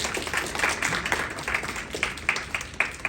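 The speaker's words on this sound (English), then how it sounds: "So let's give the founders, the executive board, a round of applause for the work that they're doing." Seminar audience claps for founders and an executive board in a lively round of applause, with dense, steady clapping and a few sharper individual claps standing out near the end.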